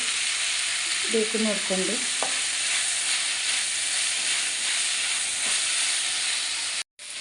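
Crab masala fries steadily in a pan with a constant loud sizzle and hiss, a brief clink near the start, while someone speaks briefly over the cooking.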